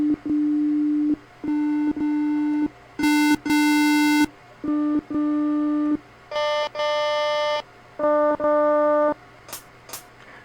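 Synthesizer waveforms previewed on a Synthino XM groovebox: a series of steady electronic tones switching between pure, buzzy and bright timbres, played in short repeated notes and held bursts, close and loud without speech.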